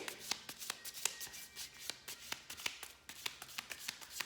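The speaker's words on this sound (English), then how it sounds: "I'm shuffling, okay, randomly" Playing cards, oracle cards, are shuffled repeatedly, a quick run of crisp riffling snaps and taps, close and fairly quiet.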